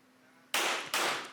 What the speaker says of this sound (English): It's her 4 shots on that target.